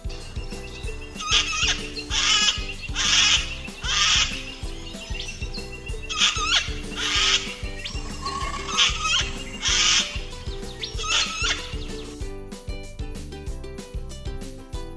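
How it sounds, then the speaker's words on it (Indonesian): Cockatoo giving a series of harsh, loud screeching calls in regular bursts, roughly eight squawks spaced about a second apart, then a brief quieter stretch. "Cockatoo."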